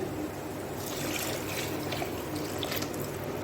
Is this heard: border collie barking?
no